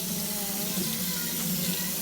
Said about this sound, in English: go and rinse those off really good to make sure that there is no dirt on them